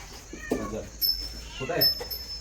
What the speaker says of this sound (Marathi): बघ ती हो पांढरी मांजरी